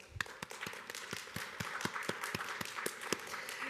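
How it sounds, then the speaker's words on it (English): Scattered audience clapping rises at a community college honors ceremony as an honoree is called up, with distinct individual claps ringing out at a moderate distance over a soft room background. "please give Bailey a big round of applause"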